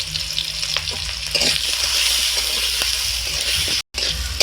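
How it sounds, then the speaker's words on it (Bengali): Cut potatoes frying in mustard oil with salt and turmeric in a kadai, a continuous close, loud sizzle with light stirring clatter throughout, no talking. "আলুগুলো নুন হলুদ দিয়ে খুব ভালো করে আমি ভেজে নিয়েছি"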